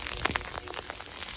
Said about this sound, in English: It is snowing, we've got hail, and a little bit of rain.